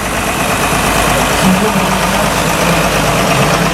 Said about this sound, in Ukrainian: Трактор Юдо NLX 1304 з дисковою бороною металофак компанія Трансагромаркет.